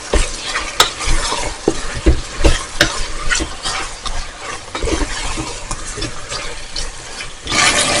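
Marinated mutton and large potato chunks frying in a pot over full gas flame, a steady loud sizzle with repeated scraping stirs and clinks throughout.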